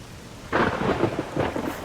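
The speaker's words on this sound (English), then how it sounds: "Man, that thunder is loud" A modded thunder clap in the Stalker Anomaly video game breaks suddenly and rumbles loudly over steady rain, rolling in a second wave before fading.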